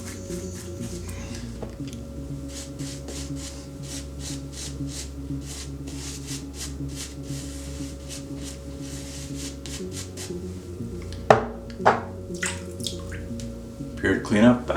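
Tap water runs steadily while someone rinses during a wet shave, a soft continuous flow near the sink, followed by closer splashing and dripping as the face is rinsed.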